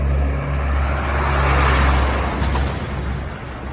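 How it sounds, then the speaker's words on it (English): A large truck rumbles past outdoors, a steady low engine drone and tyre roar swelling through the middle and easing off, with no talk over it. "Let this truck go past."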